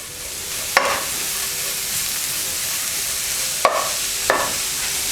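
Prawns and seafood frying with turmeric over high heat give a steady broad sizzle, broken by a few sharp scraping stirs near the start and toward the end, with no talking.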